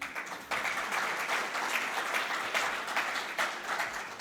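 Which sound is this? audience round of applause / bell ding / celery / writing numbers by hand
audience round of applause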